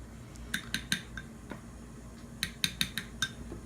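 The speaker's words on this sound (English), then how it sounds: "I'm going to stir that up a little bit" A spoon clinks against a container while mascara mixture is stirred: a cluster of sharp, close metallic taps, a pause, then another quick run of clinks, with no talking.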